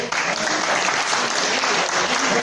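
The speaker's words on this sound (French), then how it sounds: "On va vous remercier, on va vous applaudir bien fort." Audience applause at a live stage performance, a full, even roar of clapping from many people, loud and sustained across the whole stretch.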